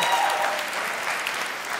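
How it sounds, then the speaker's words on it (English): A live comedy audience applauds steadily through the whole moment, a dense, even wash of clapping with no voices on top. "I'm glad other people applauded"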